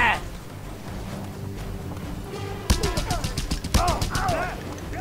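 A light machine gun in Just Cause 2 opens up after a quiet stretch, two rapid loud bursts of shots with talk running underneath.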